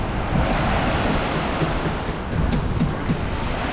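Sea waves wash steadily onto Dadar Chowpatty beach in Mumbai, a continuous loud roar of surf mixed with heavy wind buffeting the microphone, with no voices.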